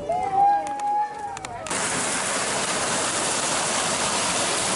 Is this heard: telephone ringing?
no